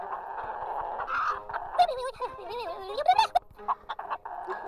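Chickens cluck and squawk in a lively string of warbling, rising and falling calls, with a soft background murmur beneath and sporadic sharper honk-like notes toward the end.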